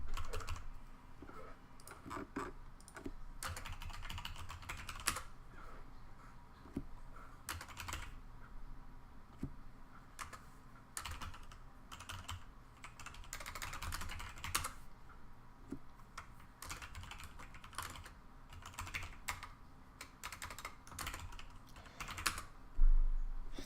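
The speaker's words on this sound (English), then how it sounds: "that public typing, man." Continuous clattery typing on a computer keyboard, quick uneven bursts of keystrokes close up against faint game audio, with no talking.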